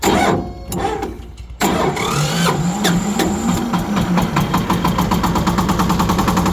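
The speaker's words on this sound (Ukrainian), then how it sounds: "Заводиться, бачите, легко." A small 24-horsepower tractor engine cranks and catches after a short starter whir, then settles into a loud, steady, rhythmic idle close by.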